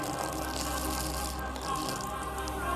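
Champagne is poured onto a book, a short, steady trickle and splash of liquid heard up close, without speech.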